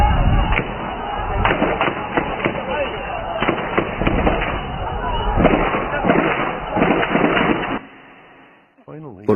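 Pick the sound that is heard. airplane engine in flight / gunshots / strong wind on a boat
gunshots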